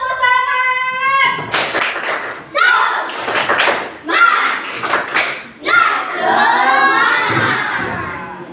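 A classroom of children performs a spirited clap chant in unison, shouting short phrases in bursts punctuated by sharp group claps, then ending in a long drawn-out cheer.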